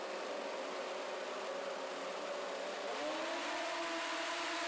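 600cc ice racing motorcycles on an oval track roar off the line together, a loud, dense engine drone that climbs sharply in pitch as they accelerate away.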